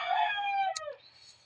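A rooster crows once, a loud close cock-a-doodle-doo that rises and then trails off, with a quiet background.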